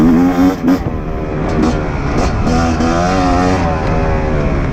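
A Fantic XE 300 enduro motorcycle engine revs loud and close on a hard off-road track, its buzzing two-wheel roar rising and falling steadily with brief throttle dips.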